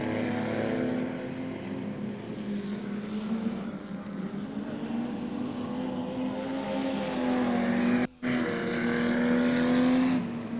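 Modified production race cars, including a Datsun, circulating at Carina Speedway, their engines a continuous droning roar with rising and falling pitch tones, fairly distant, broken by a brief dropout near the end.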